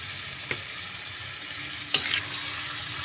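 Squid stirred in a hot frying pan with pepper added, a steady soft sizzle with a couple of brief scraping stirs, one sharper clatter near the end, no talking.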